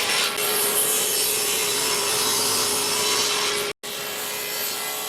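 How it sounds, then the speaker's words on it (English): A bandsaw cuts through a wooden mallet handle with a continuous close rasping hiss, broken by one brief pause near the end before the cut resumes. "I complete these cuts on the bandsaw"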